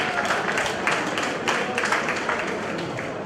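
Round of applause from an audience at a Club 38 gathering, broad steady clapping with crowd noise running throughout at moderate loudness, no speech.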